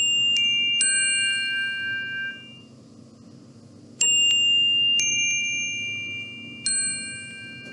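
Small bells struck in a few separate bursts, each bright tinkling ring hanging on and slowly fading, with quiet gaps between strikes.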